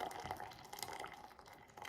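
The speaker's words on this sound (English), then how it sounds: "we are going to add 2 cups of water" Water poured from a cup into a bowl of Jello mix for a strawberry pretzel salad, a soft, steady splashing trickle lasting a couple of seconds, close and quiet with no talk.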